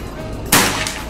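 A single sharp PCP air rifle shot from an Escobar unit cracks out loud and close at mid-clip, with a short tail and no voice over it.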